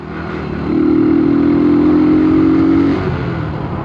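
A motorcycle engine idles, then revs up to a steady higher drone for about two seconds before dropping back to idle. Close and loud.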